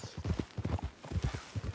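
Horse hooves clip-clop in a steady, close rhythm as a rider travels toward town in Red Dead Redemption 2, the regular beats filling the short stretch with no talk over them.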